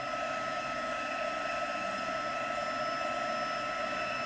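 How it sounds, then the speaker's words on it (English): A craft heat tool dries a craft project, giving off a constant, even whir and hiss of blowing air at close range, steady for the whole stretch without speech. "Now I'm going to go in with my heat tool and let's give that a heat"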